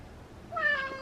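A cat gives a single short, clear meow that rises partway through the second, heard close and alone in a quiet room.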